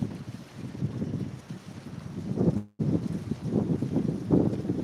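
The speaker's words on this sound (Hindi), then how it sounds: "कितना तेज़ हवा चल रहा है।" Loud, gusty wind roars across the microphone, buffeting in uneven surges, with a sudden brief dropout before the rushing resumes.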